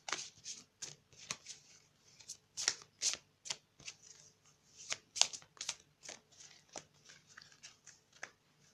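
A tarot deck is shuffled by hand up close: quick bursts of riffling, flapping cards repeat in an uneven rhythm throughout, crisp and alone with no voices.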